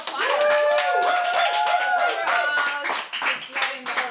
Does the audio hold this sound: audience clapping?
yes